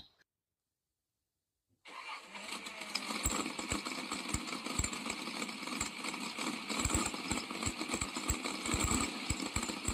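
Silence, then a car engine that has burnt out churns and rattles into a rough, steady running noise that continues for several seconds without catching cleanly.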